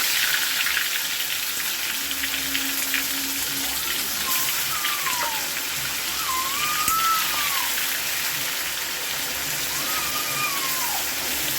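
Onion puree sizzling in hot oil in a pan, with bay leaf already added, for dhaba-style Punjabi rajma. It gives a steady, dense hiss like rain that holds throughout with no one talking.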